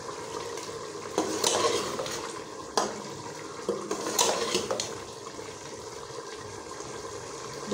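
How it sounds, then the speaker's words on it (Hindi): Mutton frying in oil in a pressure cooker pot crackles softly at close range, broken by several sharp scrapes and clinks of a spoon against the metal as it is stirred. "गोश्त को भून लेंगे।"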